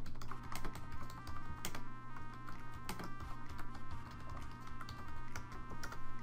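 Rapid typing on a computer keyboard, close and steady, with dense irregular key clicks running throughout and no voices.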